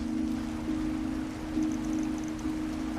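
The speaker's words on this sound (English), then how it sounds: "And of course it's still raining." Rain in the video game Trails Through Daybreak, a steady soft patter of falling rain under a sustained low tonal hum, with faint light chimes in the background and no speech.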